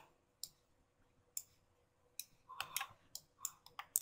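A computer mouse clicks in scattered single and double presses, sparse at first and then quicker, close and quiet in a silent room.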